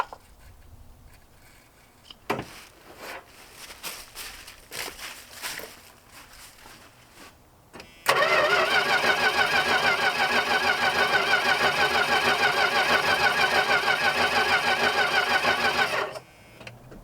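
A 1979 Dodge D100 step side barn find, long unused and fed carb cleaner, cranks on its starter for about eight seconds with a loud, steady, rhythmic churning that never catches. Rustling and handling noises come first, then the cranking cuts off abruptly.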